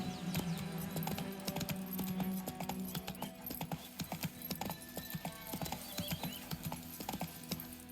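Hoofbeats of Roach, a horse in The Witcher 3, clip-clopping at a steady galloping rhythm over a continuous game soundscape, with occasional whinnies and no speech.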